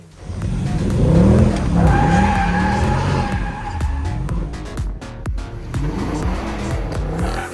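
A Mercedes C63 AMG W204 does a burnout, its tires squealing and skidding loudly over a revving engine, the screech holding steady and then breaking into rougher bursts of wheelspin.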